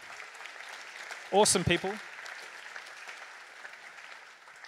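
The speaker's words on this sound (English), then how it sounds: "Round of applause." An audience at a startup demo day breaks into a burst of clapping and cheering, loud and close at first, then tapering into a scattered patter while a presenter speaks over it.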